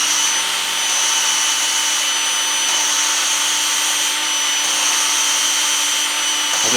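A drill spins steadily while lapping an engine valve on a 2007 GMC Yukon, giving a continuous, even whirring hum with a faint gritty rubbing of compound, close up and unbroken throughout.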